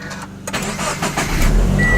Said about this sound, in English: One of the big complaints about these cars is the engine sound.